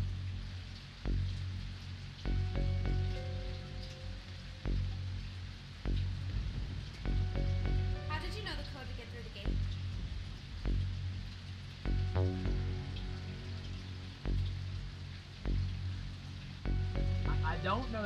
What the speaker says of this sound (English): This rain is really cold.